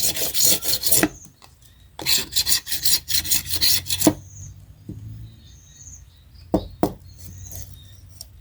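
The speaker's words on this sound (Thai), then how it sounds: "ข้างคมขูดก่อนนะทำให้ดีๆก่อน" A blade's sharp edge scrapes along a thin bamboo strip being prepared for tying rice seedlings, giving loud, close rasping strokes in two rapid bursts, then quieter scattered scrapes and a couple of sharp knocks, with faint birdsong in the background.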